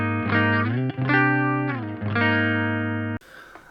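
A clean electric guitar tone through an ACS1 amp simulator on its Vox Dartford setting, with the treble raised. A few sustained, ringing notes with slight bends are played close and alone, then cut off abruptly.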